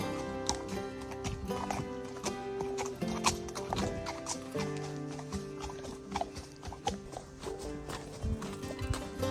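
Fjord horse stallion's hooves clip-clop steadily along a trail, a close, irregular walking rhythm of soft thuds with rustling, no talking.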